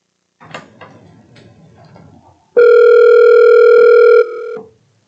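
A telephone dial tone sounds loud and steady for nearly two seconds after some faint handling clicks, then cuts to a quieter tone before stopping, with no talk.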